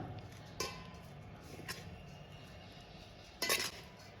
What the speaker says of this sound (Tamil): இப்போ இது எல்லாத்தையும் நம்ம ஒன்றா கலந்து கொடுத்துக்கலாம்.